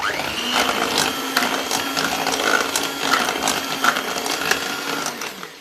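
An electric mixer beats cake batter in a bowl, giving a steady whirring drone with rattling clicks and small bumps as the beaters knock about; no one speaks.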